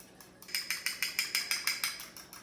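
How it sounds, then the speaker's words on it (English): Eggs whisked with a fork in a bowl, a quick regular run of about a dozen light, bright taps and clicks that starts after a brief pause, close and fairly soft, with no talking. "I'm just gonna use a fork and we're just gonna whisk that up."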